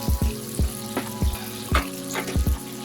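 Spring onion sizzling in melted butter in a pan, a steady bright frying hiss with intermittent low clunks and knocks of utensils against the pan, close and moderately loud with no talking.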